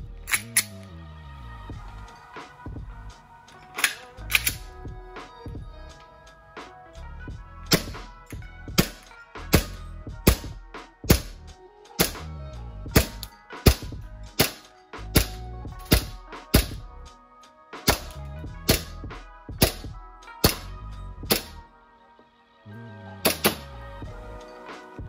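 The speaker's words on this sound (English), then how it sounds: "I think it's about time we take this thing for a shooting test." A WE EU17 Gen 4 gas airsoft pistol, a Glock 17 replica, fires a series of sharp close shots, some spaced singly and others in quick pairs and runs, each a crisp snap with a short mechanical clack, nothing else heard between.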